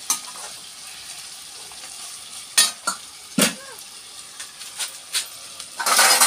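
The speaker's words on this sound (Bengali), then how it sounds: "একসাথে সব মিক্স করে দেবো।" Katla fish curry sizzles in a pan while a spoon stirs and mixes it, with several distinct scraping strokes over a continuous hiss and a louder burst of sizzling at the end.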